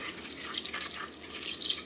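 Butter sizzling steadily in a pan as it browns for shortbread, a continuous close crackling hiss with small spitting pops, no talking.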